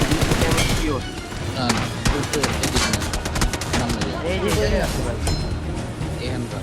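Rapid bursts of gunfire crack out in a PUBG Mobile match, sharp repeated shots in quick rhythmic volleys, loud and close, mixed with someone talking over the action.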